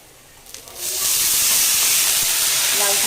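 Cleaned bottle gourd greens hit a hot pan and sizzle, starting as a soft crackle and swelling within a second into a loud, steady frying hiss that carries on to the end.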